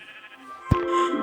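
A sheep bleats once in a Minecraft-style video game, a short, loud, wavering cry that rises over a bed of steady game music.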